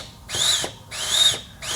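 Compressed air hisses in three short bursts into a transmission to air-check the drum, each blast loud and close with a sharp pneumatic whoosh and a brief pause between.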